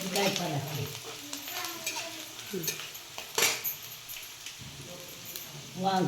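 Cumin, mustard seeds and garlic sizzle in a hot pan, punctuated by scraping and clinking of a metal spoon stirring, with a faint voice and background kitchen noise.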